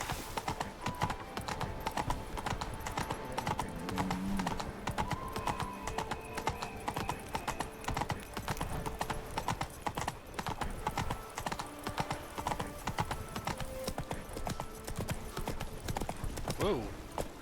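Roach the horse gallops in The Witcher III video game, with rapid, continuous hoof clip-clop close by and a brief whinny, layered over game music and ambient sound while a person talks at times.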